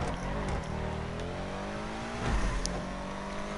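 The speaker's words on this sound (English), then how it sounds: "This is another car with a really nice engine sound to it." A car engine revving in GTA Online, a loud continuous whirring roar that swells and holds with a brief surge midway, alone with no speech.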